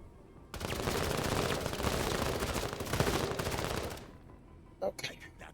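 Rapid video game gunfire rattles in a dense, loud burst for several seconds, then cuts off, followed by a couple of brief sharp sounds and a voice.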